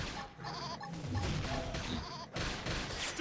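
Sheep bleating in the video game Xenoblade Chronicles X, several wavering cries repeating over a busy, loud battle mix of combat effects and music, with no talk over it.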